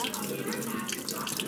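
Warm water runs steadily from a tap into a sink, a continuous close hiss and splash with faint talk underneath.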